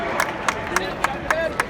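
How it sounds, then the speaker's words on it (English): Indy 500 crowd at the race start, with evenly spaced claps ringing out over a steady background hum of the crowd and a voice talking. "Let's get on our feet. Let's cheer them on."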